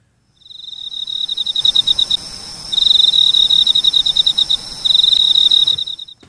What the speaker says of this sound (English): can you just put crickets in the background?